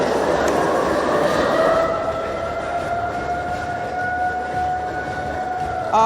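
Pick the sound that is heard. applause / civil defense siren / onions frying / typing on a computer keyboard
civil defense siren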